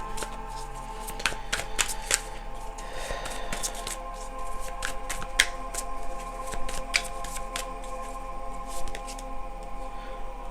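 A deck of tarot-style truth cards is shuffled by hand, with repeated crisp riffling and flicking bursts spread evenly across the stretch, close and moderately loud with no talking.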